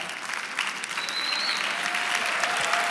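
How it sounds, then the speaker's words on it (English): Steady applause from a church congregation at Fellowship Church, a soft, even golf clap spread across the room, holding at a constant moderate level for the whole stretch with no voices over it. "That's the golf clap."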